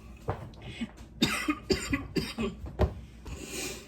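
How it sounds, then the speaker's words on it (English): A person coughs repeatedly, a string of harsh, close coughs with short breaths between them. "Speaking of that, I start coughing."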